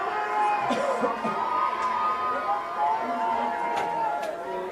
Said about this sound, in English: Of course, the crowd here getting excited.